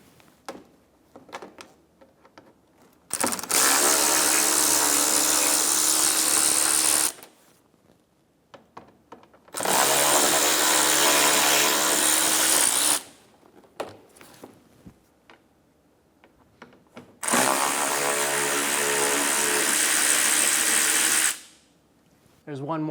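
A power tool backs out three T20 screws from the inner front fender liner of a Chevrolet Sonic: three long, loud, steady whirring runs separated by quiet pauses with faint handling noises and occasional talk.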